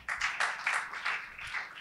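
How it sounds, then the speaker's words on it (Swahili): A church congregation claps in praise to the Lord Jesus. It is a short burst of steady, rhythmic group clapping, roughly eight beats, moderately faint and with no talking. "Pigie Bwana Yesu makofi"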